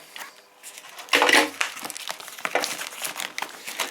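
Someone opens the cardboard box of a Xiaomi Wowstick electric precision screwdriver, with close crinkling, sliding, and scraping of cardboard and packaging, one brief louder rustle, then softer handling noises.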